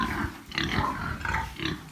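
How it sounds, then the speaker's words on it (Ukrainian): Several pigs grunting and snorting up close, short overlapping grunts in an irregular rhythm. "Наші свині."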